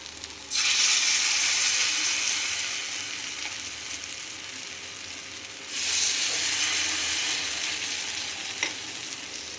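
Small ridge gourd koftas fry in hot mustard oil on a tawa with a loud, steady hiss that bursts in abruptly, eases slightly, then swells again as more pieces go in.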